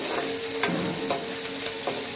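Onions fry in a pan with a continuous close sizzle and soft crackling, punctuated by a few brief stirring scrapes, with no voices.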